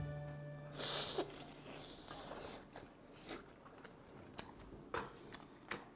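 Crisp bites into a flounder fish-shaped pastry from a Jeju market stall, a few sharp crunchy snaps and chewing noises spaced across the moment, close and fairly quiet, with a brief breathy burst early on.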